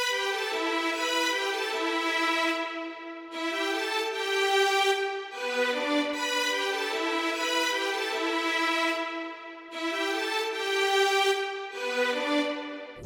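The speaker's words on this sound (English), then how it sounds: "Next, we got the strings, which sound like this." Sampled string instruments from a Kontakt library play a looping melody in sustained, bowed phrases. The notes change every few seconds, with brief gaps between swells. The strings are full and steady, with no voices.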